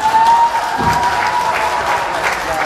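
An audience at a youth speaking event in Hyderabad breaks into dense, steady clapping that fills the whole stretch, close and loud, with a faint tone sitting underneath.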